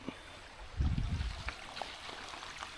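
A small stream runs beside a lake trail on a hike, a soft steady trickle and gurgle with a brief louder splash of flow near the start, alone without talk.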